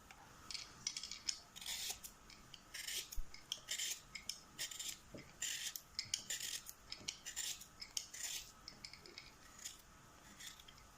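Potatoes being peeled and thinly sliced for a potato and egg salad, a run of close, soft scraping and cutting strokes in a steady, uneven rhythm with no voices.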